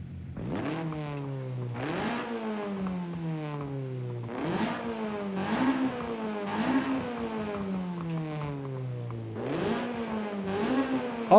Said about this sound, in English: We'll go with the race intake. More induction sound.